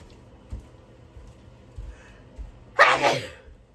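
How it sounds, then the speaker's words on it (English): A single loud sneeze bursts out near the end, after a few quiet soft thumps and near silence. "I'm going to sneeze."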